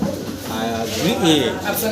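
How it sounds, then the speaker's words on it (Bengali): Fancy pigeons coo close by in a loft, their soft rolling calls running under someone talking. "খুব চমৎকার কিছু ফেন্সি কবুতর"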